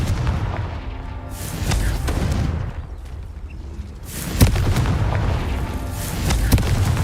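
In Hogwarts Legacy, the explosive Confringo spell sets off heavy, booming blasts that rumble and roll over one another, with a sharper crack near the middle and another surge toward the end.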